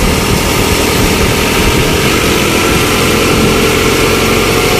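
A small Noor model 23 thresher machine driven by a tractor runs loudly and close, a dense steady engine roar with rattling mechanical vibration throughout.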